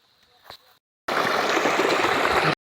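Irrigation water pouring into a sorghum field, a loud steady rushing gush that starts abruptly after a short quiet gap and runs on unbroken to the end.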